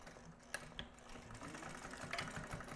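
Sewing machine stitches a seam on a homemade beach bag, a steady, fairly quiet mechanical whir with a few clicks as the needle starts, running continuously without talking.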